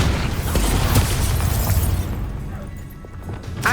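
A loud explosive spell blast in the Hogwarts Legacy video game, a booming burst with crackling debris that rolls on for about two seconds, then fades into quieter rumble and a faint late pop.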